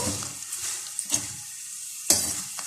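Potato chips sizzle steadily as they fry in hot oil, with a few sharp scraping stirs of the pan rising above the continuous crackle.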